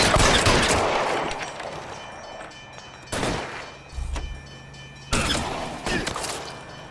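Gunfire during a police shootout in the L.A. Noire video game: bursts of sharp shots, a dense volley at the start, then separate loud cracks after quiet gaps.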